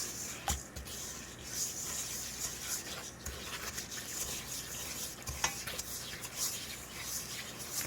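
Melted butter being stirred into sugars in a bowl for keto chocolate chip cookie dough, with soft uneven scraping and a few sharp knocks against the bowl, fairly quiet throughout.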